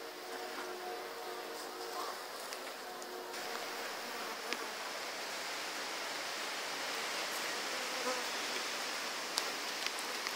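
Dense, steady buzzing of many honeybees fills the air around an opened top bar hive during an inspection, a continuous near drone with a few brief sharper passes of individual bees flying close.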